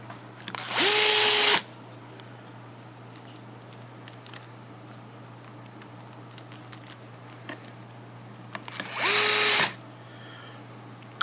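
Power drill driving screws to fasten a part back onto a Rowe hopper during maintenance, two short loud whirring bursts about eight seconds apart with quiet room hum between.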